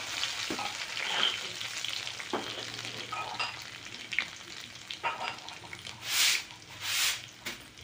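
Steady sizzling of garlic frying in hot oil, with scattered crackles and a couple of louder hissing surges near the end.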